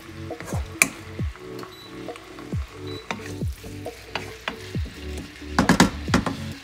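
Minced meat with paprika stirred in a frying pan over medium heat, a soft sizzle under repeated scraping, clinking spoon strokes, with a busier burst of clattering stirs near the end.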